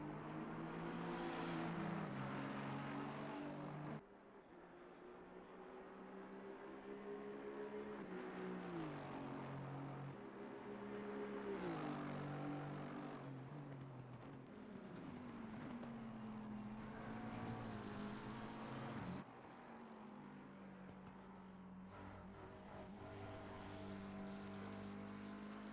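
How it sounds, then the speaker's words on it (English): Race car engine in an endurance racing video game at the Nurburgring, droning steadily at high revs, with the throttle repeatedly lifting and reapplying and the pitch sweeping through gear changes over a long stretch. "I like the way you can hear the throttle work sometimes."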